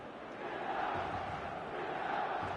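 Stadium crowd in a football video game, a steady, distant-sounding roar of cheering voices that swells slightly and holds at a moderate level.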